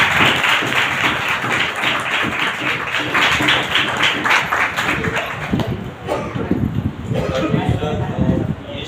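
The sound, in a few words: congregation clapping loudly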